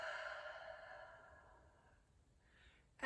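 A long, soft exhale during a prenatal breathing exercise, a single airy breath out that fades steadily over a few seconds in a quiet room, followed by a brief lighter breath.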